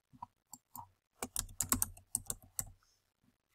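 Keys clack on a computer keyboard as registration details are entered, starting with sparse taps and building into a quick cluster of close, crisp strokes before trailing off.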